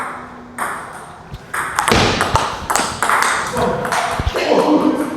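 Table tennis ball struck repeatedly during a training session, giving sharp intermittent ping-like hits at irregular intervals mixed with footsteps and people talking.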